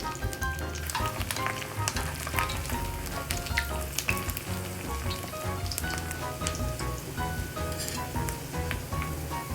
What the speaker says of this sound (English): You want the oil to come up about halfway on the sides and cook until golden brown on each side.